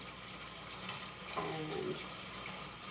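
Water runs steadily from a tap as a butchered turkey carcass is rinsed, a continuous hiss and splash that is moderately loud and sounds alone, with a brief sloshing change partway through.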